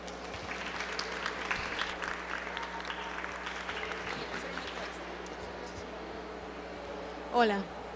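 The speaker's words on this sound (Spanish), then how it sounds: "Un fuerte aplauso para ellos." Steady applause from an audience welcoming guests on a panel about the humanities and generative AI, a dense even clatter lasting most of the clip before easing off, with a brief louder burst near the end.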